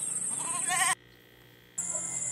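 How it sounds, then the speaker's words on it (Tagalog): A goat on a Philippine goat farm gives a couple of close, bleating cries, the second breaking off into a quiet pause before another bleat starts. "Yan ba yung malikot na kambing?"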